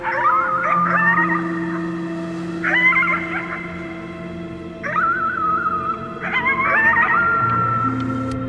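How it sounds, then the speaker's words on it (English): Howling at the moon in the Before Your Eyes video game, four drawn-out wavering howls spaced a couple of seconds apart, loud and near, over a soft sustained musical drone. "You howled at the moon, at the top of your lungs."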